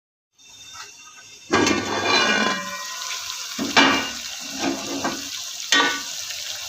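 Chana dal being stirred into frying masala in a pan, a loud sizzle that bursts in as the lentils hit the hot oil, then continues with scraping stir strokes and repeated surges of frying.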